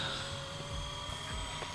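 A Blade 150 FX radio-controlled helicopter flies nearby, its small rotor and motor giving a steady high-pitched whine with a slight wavering pitch throughout.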